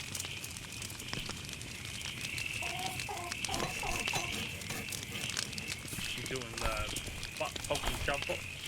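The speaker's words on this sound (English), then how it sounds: "I just heard our chicken." A chicken clucks in the video game Force of Nature, a short run of clucks partly under ongoing speech and game background noise.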